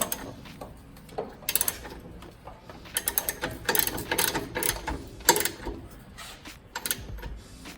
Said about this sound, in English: Ratchet, and I'll just snug it down. Once it gets pretty tight, I'll just give it a little extra turn.